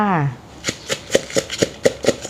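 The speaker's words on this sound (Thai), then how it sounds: "เริ่มจากตำพริกกับกระเทียมกันก่อนเลยค่ะ" Chillies and garlic are pounded in a mortar for Thai papaya salad, giving a steady series of sharp, close thuds about every quarter second, with a voice speaking briefly at the start.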